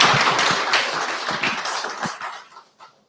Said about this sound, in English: Please give another round of applause to the panelists.